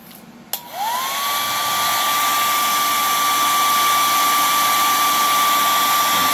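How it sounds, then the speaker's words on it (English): A hair dryer switches on with a click and whirs up to a steady, loud blowing hum that continues unbroken to the end. "Speed things up and use my hair dryer"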